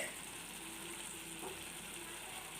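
Spices and turmeric sizzle gently in a pan for an Afghani-style egg curry. The frying hiss is quiet and steady, with faint clinks of stirring.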